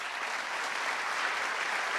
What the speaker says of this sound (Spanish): Fuerte el aplauso para Darío Steinriver